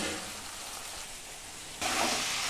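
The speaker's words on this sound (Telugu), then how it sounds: "చింతపండు గుజ్జు ఇట్లా పోసుకోవాలి" Tamarind pulp juice poured into a hot pan for a small-fish curry, a steady sizzling hiss that jumps louder partway through as the liquid hits the pan, with no talking.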